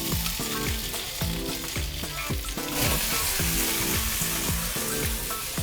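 Roughly chopped leeks fry in a hot pan with a bright, continuous sizzle that stays loud throughout, over a steady rhythmic musical pattern.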